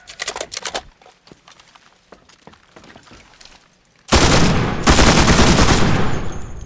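Automatic weapon fire in the video game Enlisted: a few scattered shots and clicks at first, then a loud, sustained rapid-fire burst that dominates the final seconds.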